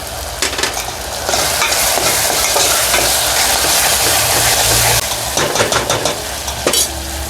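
Homemade masala is tipped into a hot frying pot for a one-pot bachelor's mutton curry and stirred, giving a steady loud sizzle broken by scraping spoon strokes.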